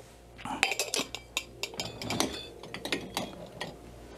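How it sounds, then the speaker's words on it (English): A cocktail is stirred with crushed ice in a glass, giving a rapid run of close clinks, scrapes and rattles that comes in uneven bursts at a fairly low level, with no one talking. "I'm going to put crushed ice in here. And we're going to mix with crushed ice."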